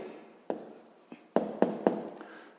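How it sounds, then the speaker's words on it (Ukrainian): Pen strokes on paper as a math answer is written down by hand, a handful of distinct taps and scratches at an uneven rhythm, close and fairly quiet. "Ну що ж, записуємо відповідь."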